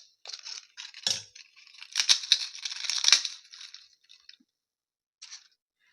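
Dry fried appalam (papad) being crushed by hand into small pieces, a run of crisp crackling crunches and snaps with short pauses, close and clear, with no talk.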